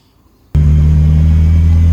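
A BMW E36 turbo engine fitted with an Audi R8 ignition system fires up after half a second of near silence, then holds a loud, steady, deep idle rumble close by.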